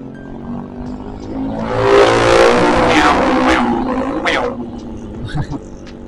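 Underbone motorbike (motor bebek) ridden through corners on Indonesian streets, engine note rising and roaring as it accelerates, with wind rush and a few sharp bursts near the end.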